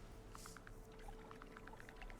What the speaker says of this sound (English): Perfect, we've got the waterfall going.